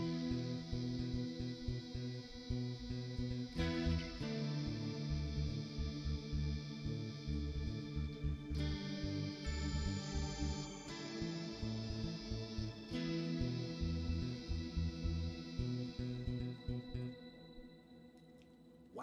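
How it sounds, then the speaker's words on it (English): One chord is played through a stack of virtual instruments in REAPER. It rings out as a dense, layered, effects-heavy wash with shimmering repeats, repeated several times and fading near the end, with no voices. "if I play a chord, you're going to hear a bunch of instruments"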